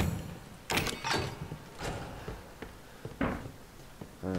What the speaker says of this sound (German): Ich wollte gerade sagen, dass die Tür auf einmal geöffnet hat.